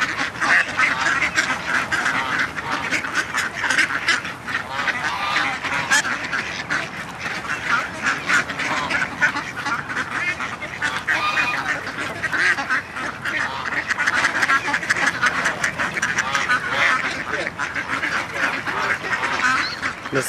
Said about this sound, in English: Those gray lags like to get up close and personal.